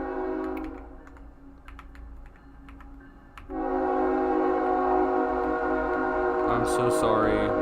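A train horn sounds in the distance, a sustained tonal blast entering partway through and holding over faint background keyboard typing and room noise.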